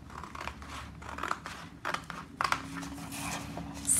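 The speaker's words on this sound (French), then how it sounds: "Vous pouvez aussi le faire au ciseau comme ça." Scissors snip through a Christmas card with several crisp, uneven cuts and crunchy paper sounds, close and fairly quiet with no talking.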